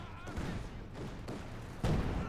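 Machine gun and field gun fire in the video game Company of Heroes 2 form a dense, continuous rattle of gunfire with a heavier blast near the end, heard under a commentator's voice.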